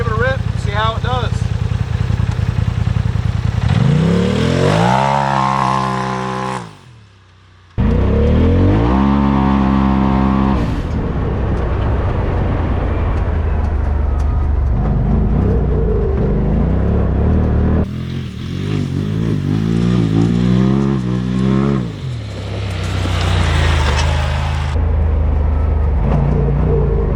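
A Polaris RZR XP Turbo with an EVO Powersports intake boot, charge tube and blow-off valve revs hard several times, engine rising and falling loudly, with a brief drop between pulls and voices talking underneath.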